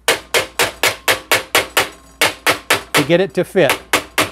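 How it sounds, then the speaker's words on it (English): A small non-steel hammer strikes a metal part of a P-51 pedal plane over and over in a steady rhythm, about a dozen sharp close blows. Someone speaks briefly near the end between the hits. "You take a small hammer. Don't use a steel hammer. Just bend it down."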